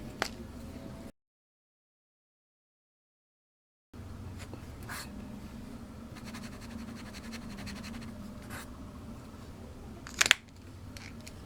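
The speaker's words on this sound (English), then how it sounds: "And now we're going to do the writing test on the Koh-i-Noor sketch paper." A fountain pen writes with Noodler's Baystate Concord Grape ink on Koh-i-Noor sketch paper, giving faint, close scratchy strokes over a quiet room with a brief silent gap and a sharper tap near the end.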